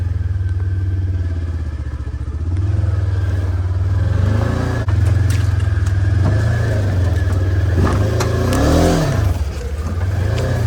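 An off-road vehicle with a new engine grinds up a steep trail hill, a loud sustained low engine drone with rising and falling revs and occasional clatter, close and continuous with no voices.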